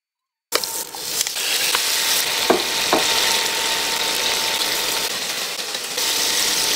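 Shrimp frying in butter in a pan: after a brief silence, a steady close sizzle sets in and holds, with a few faint clicks and taps early on.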